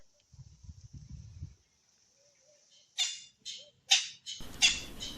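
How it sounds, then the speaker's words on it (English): A Natal francolin calls at a Kruger Park campsite in a few loud, harsh squawking bursts, ending in a rapid grating run, with a steady insect-like whine and low rumbling behind it. "This is a Natal francolin."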